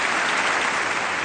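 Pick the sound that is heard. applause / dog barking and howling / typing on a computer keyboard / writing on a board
applause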